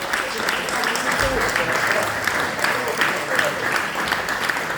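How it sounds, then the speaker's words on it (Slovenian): An audience gives a big round of applause at a gathering of former strikers from Velenje, Slovenia, steady dense clapping that stays loud throughout with no talk over it. "Res en velik aplavz."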